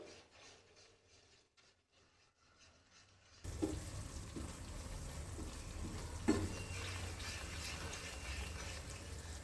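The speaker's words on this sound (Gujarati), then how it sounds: "ગેસની ફ્લેમ એકદમ ધીમી રાખી અને આપણે ચટણી છે ને એ સાંતળી લેશું" Garlic and red chili powder chutney sautéing in oil over a low gas flame, a steady soft sizzle that starts abruptly partway in after near silence and continues evenly with faint scraping clicks, no talk.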